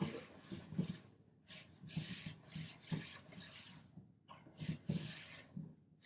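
A rag wipes Dixie Belle white wash glaze across wood in long, soft strokes, giving faint intermittent rubbing swishes with short pauses between them and no voices.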